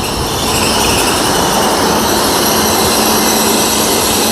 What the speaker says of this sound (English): the train just lining up with the platform here